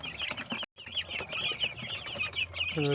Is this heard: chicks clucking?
yes